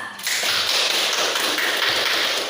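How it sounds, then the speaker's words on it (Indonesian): Classroom applause from a group of students, dense and steady clapping rising quickly and continuing evenly throughout, fairly close and loud with no talking. "karena kelompok 1 sudah berhasil membawakan dengan baik, kita kasih aplaus."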